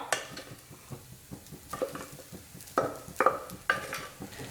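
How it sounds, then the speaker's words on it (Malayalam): Spinach and cooked dal for a cheera parippu thoran are stirred in a pan, with quiet scraping and a few sharper spoon clinks against the metal over a low sizzle, close and without voices. "ഇനി നമുക്കിത് നന്നായിട്ടൊന്ന് മിക്സ് ചെയ്തെടുക്കാം"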